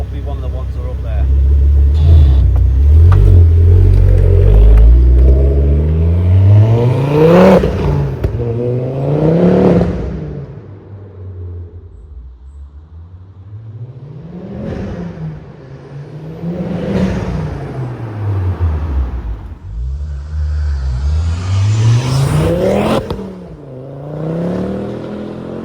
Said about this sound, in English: these cars, the exhaust note on them sound absolutely fantastic